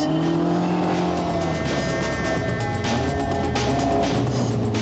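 A Westfield 1800 rear-wheel-drive sports car engine drones and revs steadily at close range, rising and shifting in pitch as it drives, with no voices.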